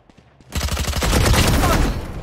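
Rapid gunfire in the tactical shooter Valorant, a fast loud burst of shots after a few quieter clicks, continuing in a dense rattling stream to the end.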